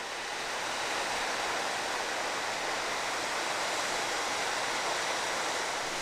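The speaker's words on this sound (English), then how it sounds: "Beautiful waterfall." A waterfall in the Colorado mountains, beside a canyon trail, gives off a loud, steady broadband rush that holds unbroken from start to finish, with no voices.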